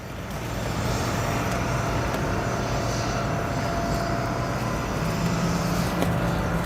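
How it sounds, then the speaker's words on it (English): A 15-year-old Boeing 747-400 heavy freighter arrives at O'Hare from Anchorage, its engines a loud, continuous broadband roar that holds steady throughout and drowns out other sounds. "This aircraft coming in from Anchorage, a 15-year-old 747-400 freighter."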